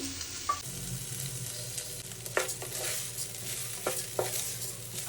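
Polao rice is fried with spices and beef in a pot for biryani, a low sizzle under repeated scraping strokes of a spoon, with several sharp scrapes standing out across the few seconds.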